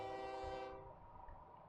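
A little train sounds a loud chorded horn that holds steady and then cuts off, leaving faint rolling rail rumble behind it.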